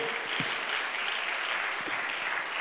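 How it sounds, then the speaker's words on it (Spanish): Soft, distant applause from a church congregation, a thin continuous patter with a couple of faint low thumps. "Dar un aplauso a Cristo, por favor."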